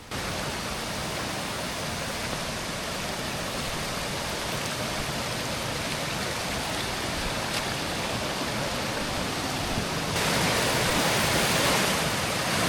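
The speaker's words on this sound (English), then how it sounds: "this is one of the cooler waterfalls I've ever seen. It literally just comes right out of the freaking bluff" A small spring-fed waterfall pours straight out of a rocky bluff in the Missouri backcountry, making a close, steady rushing hiss that grows slightly louder near the end, with no talking.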